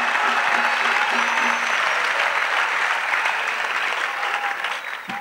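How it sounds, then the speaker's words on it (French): A church congregation claps for Jesus in a dense, sustained round of applause that fills the room. It stays loud and even, then thins slightly near the end. "Let's clap for Jesus."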